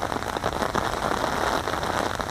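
Heavy rain falls hard and steady on a surface, a dense continuous patter close by with no voices.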